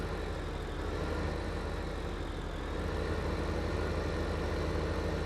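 A tractor engine in Farming Simulator 15 runs at a steady low idle, a continuous even rumble that stays close and constant throughout with no talking over it.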